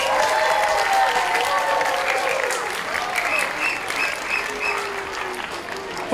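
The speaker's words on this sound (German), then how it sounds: "Jetzt bitte ich um einen ganz besonderen Applaus" An audience in Bremerhaven applauds a guest of honour, the local city council chairwoman, with dense, sustained clapping that gradually thins, while a voice speaks faintly over it.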